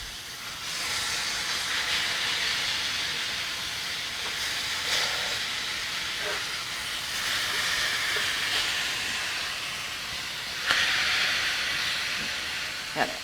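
Tenderloin rubbed with a sweet BBQ rub sears in a hot pan just after flipping, giving a steady, loud, close hiss of sizzling that runs throughout, with a couple of sharper pops near the end.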